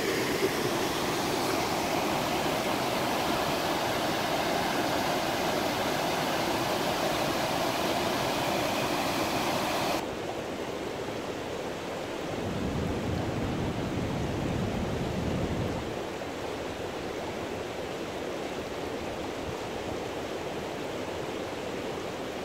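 Steady broadband rush of falling water from the Falls of Tarf in Glen Tilt, continuous and fairly loud, shifting slightly in tone partway through; no voices.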